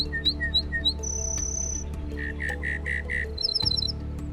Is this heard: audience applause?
no